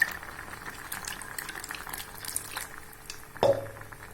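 Broccoli masala kulambu boiling in a pot, with faint continuous bubbling and soft liquid simmer close by, plus a brief louder clink or scrape near the end.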